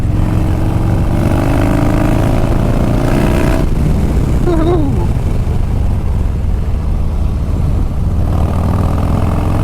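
A 2021 Harley-Davidson Street Bob (FXBBS) motorcycle engine revs hard and loud, with rising and falling pitch over a steady deep rumble, close by and continuous, with no talking.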